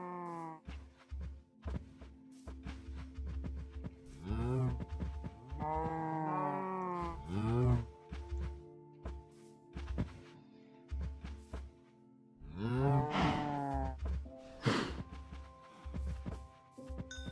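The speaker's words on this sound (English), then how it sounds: "Maybe also reproduce the cows." Minecraft animals calling in a game world, a run of drawn-out, wavering bleat-like moos repeating every few seconds over a low rhythmic thumping backdrop, with no talking.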